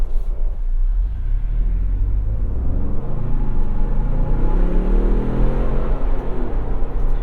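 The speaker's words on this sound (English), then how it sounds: "You hear those turbos pumping too." Cabin of a 2021 Ford Bronco First Edition four-door with the 2.7L EcoBoost twin-turbo V6 and ten-speed, driving along: a constant low engine rumble with a hollow rising boost tone swelling through the middle, no talking.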